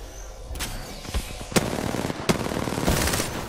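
Bursts of automatic gunfire and sharp single shots ring out in a multiplayer shooter video game, loud and close, with a dense rattling spray layered over explosive cracks and no talking.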